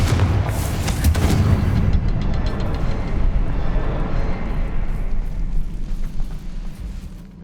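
In the Hogwarts Legacy video game, a Confringo spell erupts into a loud booming explosion with a sharp crackling burst at the start, then a long rumbling decay that fades away.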